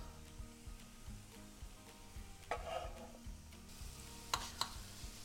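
Small pieces of carrot and other vegetables for samosas start cooking in a pan, giving a soft steady sizzle with scraping stirs and a few utensil clinks, quiet and close.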